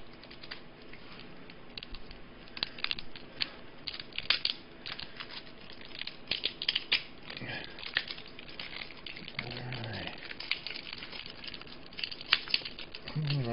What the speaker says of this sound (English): I didn't quite cut it deep enough, but that's okay because I'm getting the outside off and not the inside.